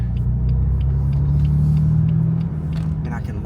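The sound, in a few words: BMW M4 car engine rumbling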